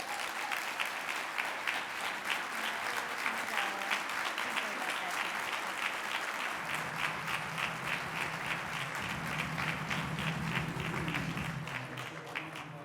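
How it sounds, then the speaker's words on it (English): Sustained audience applause at a conference awards event, dense steady clapping from a large crowd that fills the whole stretch, with a low voice briefly heard beneath it near the end. "Another round of applause for all of the awardees"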